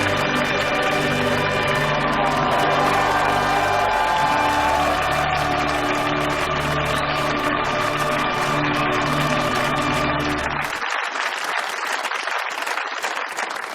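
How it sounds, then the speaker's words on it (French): A large crowd in St Peter's Square in Vatican City cheers and applauds the new pope, a loud continuous roar of clapping and voices that cuts abruptly to thinner, sparser crowd noise near the end. "de voir son fiston ainsi acclamé par la foule en liesse"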